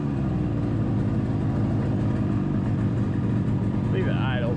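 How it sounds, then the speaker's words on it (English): Idle of a vintage motorcycle's engine revived after 45 years, cold outdoors, a steady low rumble running throughout at a slightly high speed, with a voice speaking over it. "Leave it idle, it's a little too high."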